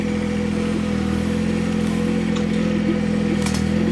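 A 25 hp diesel tractor engine runs at a steady idle, a continuous low, even rumble with a faint clatter on top, close and unbroken throughout.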